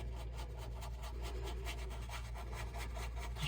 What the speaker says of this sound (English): Rubbing in small circles down here to clean up any little loose frayed ends